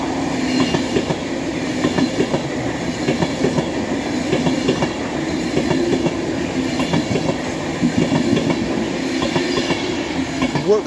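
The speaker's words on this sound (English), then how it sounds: "here comes an Avanti West Coast Class 390 running from Manchester" An Avanti West Coast Class 390 train on its Manchester Piccadilly to London Euston run, passing through Cheadle Hulme on the West Coast Main Line with a loud, sustained rumble and rhythmic wheel clatter, close and steady throughout.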